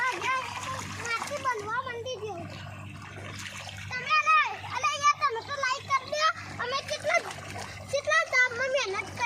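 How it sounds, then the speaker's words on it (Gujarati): Water gushes from a borewell into a sorghum field, splashing steadily and close by while children talk and play over it. "બોરમાંથી પાણી આવે છે।"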